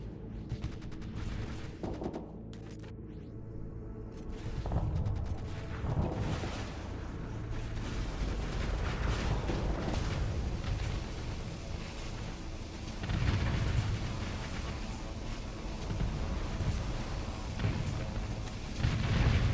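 Ship weapons in a space game running the United Aurora Federation mod fire in repeated heavy booms and bursts, dense and continuous over a rumbling battle backdrop with no voices.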